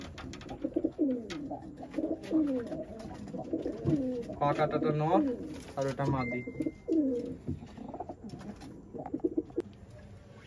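Pigeons coo in low, repeated throaty calls beneath someone talking close by, with a few brief higher chirps mixed in.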